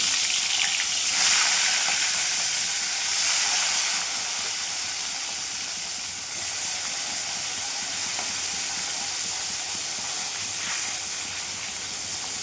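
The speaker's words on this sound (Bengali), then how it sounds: "তেলটা গরম হয়ে গেছে, এবার মাছগুলো দিয়ে দেবো একে একে।" Salt-and-turmeric-coated fish frying in hot oil, a steady broad hissing sizzle that holds fairly even throughout with no talk.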